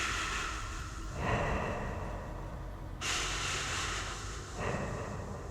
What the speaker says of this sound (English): Then I heard breathing.